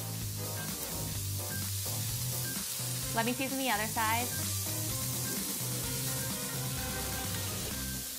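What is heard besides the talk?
sausages sizzling in a hot pan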